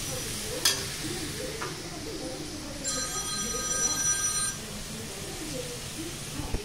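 Cauliflower, capsicum and tomatoes fry gently in a pan with a soft, low sizzle. A couple of faint knocks sound, and a thin bell-like ring rises briefly midway.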